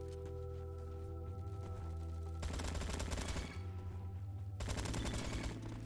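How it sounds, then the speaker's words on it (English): Automatic AKS-74u fire in the Roblox shooter Bad Business, steady bursts over a constant game background hum, the rattling volleys growing denser and louder in two long stretches with a short pause between them. "this gun is so easy to control."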